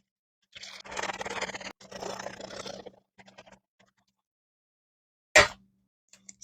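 A zipped MRE pouch holding chocolate protein drink powder and cold water is shaken: two long bursts of crinkly plastic rustling, then a few short rattles and one sharp click near the end.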